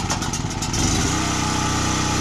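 A Champion open frame inverter generator runs close by, its engine droning steadily and loudly with a rough, pulsing mid-range hum that settles into an even tone.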